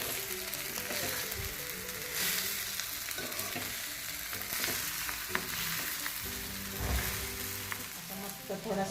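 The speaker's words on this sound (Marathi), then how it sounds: "मस्त थोडासा फ्राय करून घ्यायचा, भाजून घ्यायचा." Sago pearls sizzle and crackle as they fry in a small wok for a fasting-day snack, with steady frying hiss and occasional stirring scrapes throughout.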